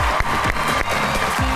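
A studio audience claps to welcome two comedians onto a talk show stage, producing a steady, dense wash of applause with no gaps.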